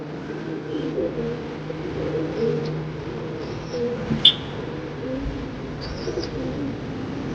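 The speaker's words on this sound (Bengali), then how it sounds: "এটা একটা পায়রা আছে, দাসি লাইনের পায়রা" Pet pigeons of a bred line coo softly and repeatedly nearby, with a faint steady background hum and a few small chirps.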